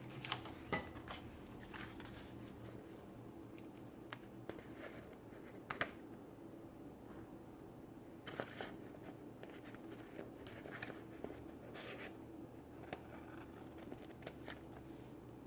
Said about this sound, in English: I made it too long, so I do have to trim it.